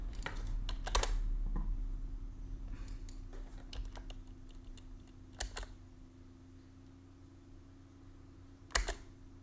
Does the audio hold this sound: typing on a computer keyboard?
yes